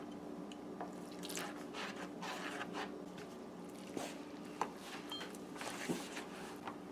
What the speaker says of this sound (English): And now you're going to add your water gradually.